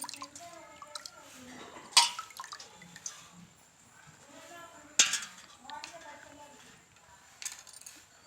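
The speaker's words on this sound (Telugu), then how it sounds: "ఇలా వాటర్లో శుభ్రంగా కడిగేసి తడి లేకుండా క్లాత్లో అయితే వేసి తుడవాలి మనం" Bitter gourds being rinsed clean in water before cooking, with soft splashes and a couple of sharp clinks against a vessel, under speech in a quiet kitchen.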